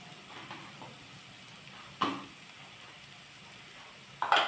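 Chopped onion and crushed peanuts sauté quietly in a pan for okra bhaji, a soft continuous sizzle broken by two sharp spatula scrapes, one midway and one at the end.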